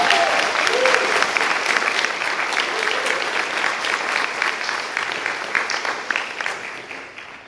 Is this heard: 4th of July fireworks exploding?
no